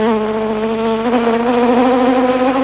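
A man vocally imitates a frantic buzzing fly on a 1995 French TV game show, producing a loud, continuous nasal buzz that wavers in pitch and stays close and steady throughout.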